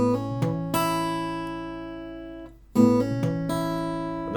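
Fingerpicked acoustic guitar plays a short Travis-picked blues pattern with a steady alternating bass, notes ringing out clearly, then the phrase repeats.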